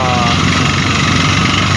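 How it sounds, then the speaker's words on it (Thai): An air-powered rig drilling a water well in Thailand runs loud and continuous, a dense mechanical roar with a throbbing low rumble throughout. "เจาะด้วย ระบบ แอร์นะครับหรือเจาะด้วยระบบลมนะครับผม"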